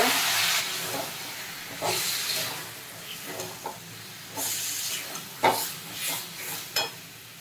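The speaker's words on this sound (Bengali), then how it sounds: "কষিয়ে নেওয়ার পরে যে বাটি ধোয়ার জলটা ছিল সেটা অল্প অল্প দিয়ে দিয়ে নামিয়ে নেব।" A pointed gourd and prawn curry sizzles in a pan as water is added a little at a time, bursts of hiss and steam rising then fading, interleaved with quieter stirring, close and without speech.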